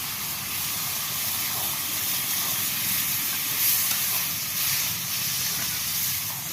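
Water poured into hot whole-chilli spice paste in a kadai for a broccoli dish, a steady loud steamy hiss and sizzle that holds throughout with slight swells.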